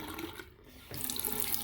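Water flows from the cold side of a household faucet, starting as a soft trickle, briefly dropping away, then rushing more strongly into the sink.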